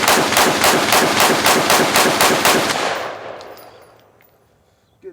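Rapid gunfire from a Law Tactical ARIC rifle firing its last magazine, a loud, fast, evenly spaced string of shots that stops abruptly and leaves a long echoing tail fading outdoors.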